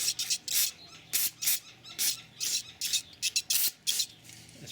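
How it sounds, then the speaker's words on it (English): Brake parts cleaner is sprayed on brake parts in repeated short bursts of hissing aerosol, close and fairly loud, with brief pauses between blasts. "I'm going to hit them with this brake parts cleaner"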